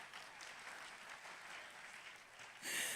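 Church congregation at a Sunday service in Sunter clapping, a faint, quiet spatter of applause that swells sharply louder in the last moment.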